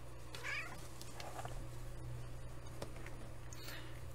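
A cat meows faintly several times in a row over a steady hum of background noise, somewhat distant and soft.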